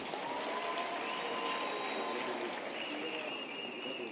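A crowd at a university graduation ceremony claps for a guest, a sustained and even round of applause filling the hall from start to finish.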